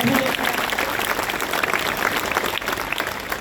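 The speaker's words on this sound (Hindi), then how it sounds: "एक बार इन सारे कलाकारों के लिए बहुत अच्छी तालियां यहाँ से वहाँ" A standing audience at a Women's Day street play celebration claps for the performers, a busy, fairly loud applause that stays steady throughout with faint voices mixed in.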